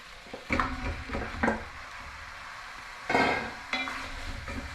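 Pork is stirred in a pot with tomato for sinigang, with a utensil scraping and clattering in bursts against a steady low sizzle close by.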